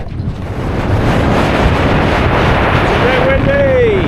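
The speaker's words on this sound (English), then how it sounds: "It's a bit windy." Strong wind buffets the microphone in a continuous loud rumble, with a faint whistling tone rising near the end.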